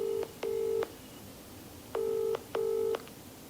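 Telephone keypad dialing to place a call: five short tonal beeps in two bursts, clear and fairly quiet against a soft background hiss, with no voices.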